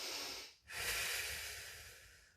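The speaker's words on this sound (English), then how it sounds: "Nice big breaths here." Deep breathing during a pilates knee plank: a long, hissing inhale and exhale close to the microphone, a brief pause, then another drawn-out airy breath, with no speech.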